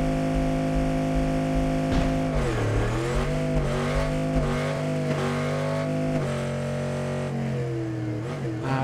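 A drag race car launching in the Street Outlaws video game, its engine roaring and revving loudly, then climbing through rising pitch sweeps as it accelerates hard, with the strained tone shifting between gears.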